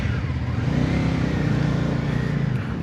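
A Benda motorcycle engine, a 700cc-class bike such as the LFC700, pulls away from a standstill with a steady, throaty low drone that holds loud and close throughout, with no talking.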